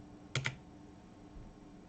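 A few quick computer keyboard keystrokes, two sharp clicks close together near the start and then quiet room tone, entered while setting up a chatbot in Power Virtual Agents.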